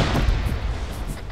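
A frag grenade detonates in a multiplayer shooter game, a dense low rumbling blast that fills the whole moment with no clear start or finish, loud and close, with gunfire-like crackle mixed in.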